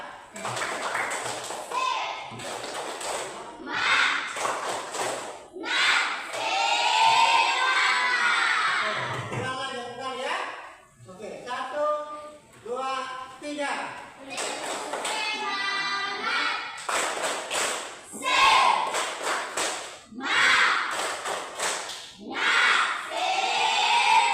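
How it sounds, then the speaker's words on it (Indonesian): Children in a classroom perform a rhythmic group clap, bursts of sharp claps in patterned sequences alternating with loud chanting and shouted voices and a teacher talking between rounds. "Tepuk semangat."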